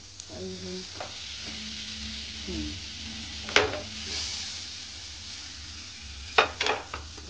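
Butter with a little white oil sizzling in a hot pan, a steady low frying hiss with occasional stirring knocks and clinks of a utensil against the metal.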